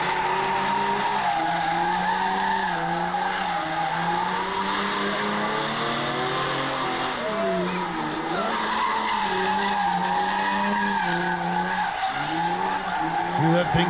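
A diesel truck does a burnout in a competition pit at a truck festival, its engine roaring steadily against the rev limiter with tire squeal and skidding noise throughout. It is loud and continuous, with faint crowd or announcer voices mixed in.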